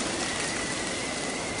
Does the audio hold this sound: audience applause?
no